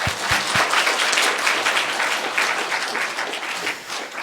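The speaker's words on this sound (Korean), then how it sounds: "찬양대 격려하면서 함께 한 번 더 박수하겠습니다" A church congregation applauds the choir during a Sunday worship service, a dense, even wash of many hands clapping that carries on steadily, with no voices over it, and eases slightly near the end.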